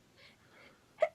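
Two soft intakes of breath lead into a single short, sharp sneeze on stage in a high school play, quiet and close.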